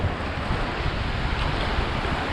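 Atlantic Ocean surf at Daytona Beach, Florida, a steady, loud broadband wash of waves mixed with gusty wind buffeting the microphone, continuous with no clear breaks.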